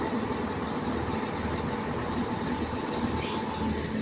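A train at Manchester Piccadilly station rumbles steadily and fairly loud for the whole stretch, a continuous broad rolling noise with no talk.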